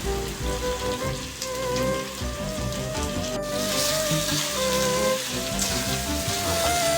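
Washed chicken pieces hit hot oil in a pan for chicken curry, setting off a loud, dense, continuous sizzle and crackle that holds steady throughout.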